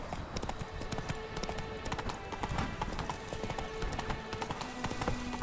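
Horse hooves gallop in a steady, rapid clip-clop rhythm in The Witcher 3, continuous and moderately loud with game ambience behind.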